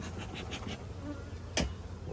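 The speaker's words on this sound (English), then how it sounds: "This nuke is just jam-packed with bees" Honey bees packed into a nuc box hum in a steady, close, low buzz, with individual bees zipping past the listener now and then and one brief louder flyby near the end.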